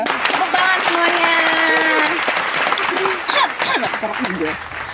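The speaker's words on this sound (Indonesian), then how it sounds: "Tepuk tangan semuanya." Audience applause for an actress guest on an Indonesian food show, loud clapping with crowd cheering and voices over it, a presenter speaking through the noise.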